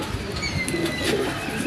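Caught pigeons coo softly at close range, with a few low repeated coos over faint background hiss and a couple of thin high chirps.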